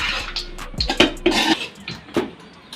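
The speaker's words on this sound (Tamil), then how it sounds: "இறக்கி வச்சுட்டு நல்லா கிண்டலாம்" A spoon scraping and tapping through lemon rice in a pan, several irregular clinks and scrapes at close range, fairly quiet.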